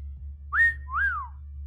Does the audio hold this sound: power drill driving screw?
no